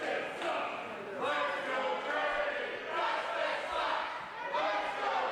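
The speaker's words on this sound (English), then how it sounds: "The crowd's really into this one." A crowd at a wrestling tournament cheers and shouts in rising and falling waves, steady and moderately loud throughout.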